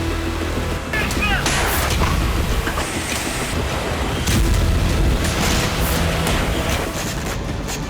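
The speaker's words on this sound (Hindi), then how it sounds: "इससे आप अंदाजा लगा सकते हैं कि यूक्रेन के एक बड़े इलाके में किस तरह ताबड़तोड़ धमाके हुए हैं" Rapid cluster bomb explosions across a wide area of Ukraine, a dense, continuous barrage of booms and crackling blasts overlapping one another with no pauses, loud and sustained throughout.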